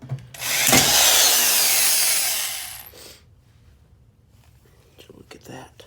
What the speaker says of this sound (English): You're gonna take a drill and you're gonna drill out the rivets, not grind them off like an idiot.